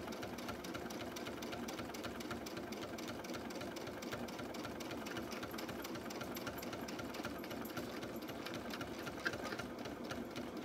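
A sewing machine runs steadily while stitching fabric for a hassock cover, a fast, even mechanical whir and chatter heard up close for the whole stretch with no talking.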